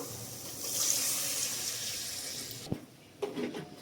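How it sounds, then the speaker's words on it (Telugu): Water pouring from a tap into a cooking pot while making mango pulao at home, a steady hissing stream that runs for most of the clip, then stops and gives way to a few clinks and knocks of the pot. "ఇప్పుడు మనం ఇందులో కొంచెం వాటర్ కూడా వేస్తున్నాము"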